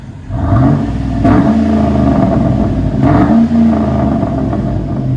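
Chevy Avalanche 5.3L V8 revving through an aftermarket exhaust, deep and loud, held at a steady high drone with two sharper throttle blips, close by and alone.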